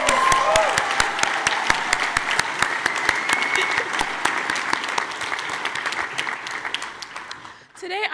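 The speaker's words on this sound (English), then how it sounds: "Another round of applause, please." Audience at The Cooper Union's 164th commencement ceremony breaks into sustained, dense applause with many overlapping claps close by, fading out near the end.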